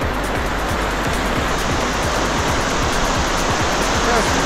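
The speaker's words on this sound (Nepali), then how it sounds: "बगिरा खोला" A monsoon-swollen mountain river on the road to Dhorpatan rushes past, a loud, constant broadband roar of flowing water close by with no break.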